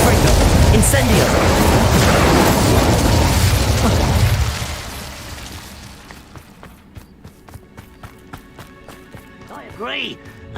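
Confringo and Incendio spell explosions from the Hogwarts Legacy video game go off loudly as dense fiery bursts for the first few seconds, then fade to quieter scattered pops and clicks, with a brief voice-like sweep near the end.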